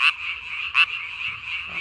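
Two sharp, loud croaks from a nearby Korean tree frog at night, spaced under a second apart, set against a steady humming chorus of distant frogs.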